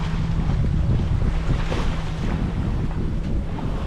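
Sailboat under sail with the motor off, heading toward St. Maarten: steady, loud rushing wind and water noise buffeting the microphone, with a faint tonal hum underneath and no voices.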